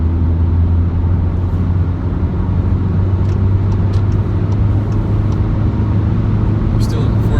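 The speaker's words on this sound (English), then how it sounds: "Now heading to the highway, flooring the gas pedal." Škoda Karoq Style 2.0 TDI 4x4 diesel at full throttle heading onto a highway, a steady loud low engine drone with road rumble filling the whole stretch, no one talking.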